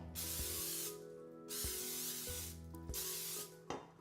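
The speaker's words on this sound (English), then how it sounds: "I'm going to spray my cake pan with olive oil cooking spray" Two long, loud hissing bursts of olive oil cooking spray onto a cake pan, close up, separated by a brief pause, with a faint clatter near the end.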